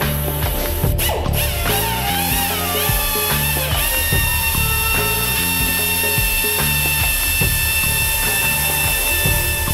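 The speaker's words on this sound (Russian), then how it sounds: "Дальше берем фару и просто начинаем потихонечку ее полировать на небольших оборотах" Rotary polisher working a car headlight at low speed, up to about 1500 rpm, giving a steady whirring drone with shifting tonal whine, loud and continuous with no talk.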